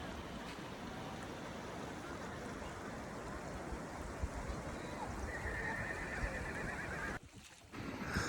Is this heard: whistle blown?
no